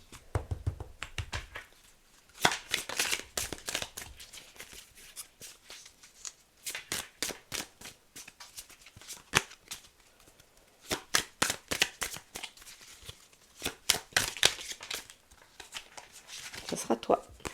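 Tarot cards being shuffled by hand in a run of crisp riffling, tapping bursts that start and stop repeatedly, close and fairly quiet with no talking over them.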